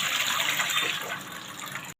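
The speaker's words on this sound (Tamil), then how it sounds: "ஒரு சொம்பு தண்ணி ஊத்திக்கலாம் அதுக்கு" Water poured into a pressure cooker on the stove for cooking dal, a steady loud gushing splash lasting about two seconds before cutting off abruptly.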